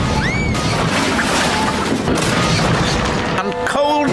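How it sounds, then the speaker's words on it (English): A loud, sustained crash of a toy train sliding off the tracks, smashing and clattering debris, with a brief whistle-like squeal near the start and rattling metallic ringing toward the end. "Crash, bang, wallop went..."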